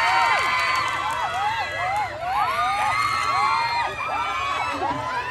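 Crowd at an Indonesian film cast talk event for Balada Si Roy shouting and cheering loudly for an actor, with many high voices screaming and whooping together continuously.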